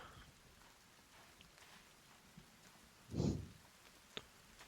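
Rain falls steadily in the video game The Forest 2, a soft, faint patter that carries throughout, with one brief louder rush of noise partway through and a small sharp tick near the end.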